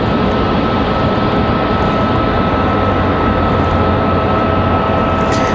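Southwest airliner at Raleigh-Durham International Airport, a loud continuous engine roar and rumble close by, steady throughout with no pauses or voices.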